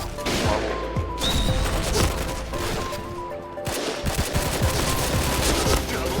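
Rapid automatic gunfire in the shooting video game Point Blank, dense bursts of shots with crashing impacts that continue nearly nonstop, with a player's voice faintly underneath at times.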